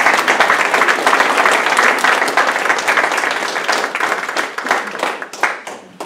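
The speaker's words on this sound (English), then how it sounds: "Could we have a round of applause for our candidates?" A forum audience applauds candidates for councilor at large, a dense, loud wash of many hands clapping that holds steady and then slowly thins out toward the end.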